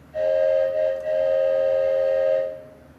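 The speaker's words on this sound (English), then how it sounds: "but that train whistle sounds accurate." A pipe organ plays a train whistle effect: a steady, reedy whistle tone for over two seconds with a short dip near the middle, loud and close with no voices.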